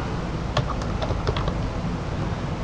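Keys tapped on a computer keyboard while entering a color value in a Tagalog programming lesson, a short run of light clicks over steady background hiss.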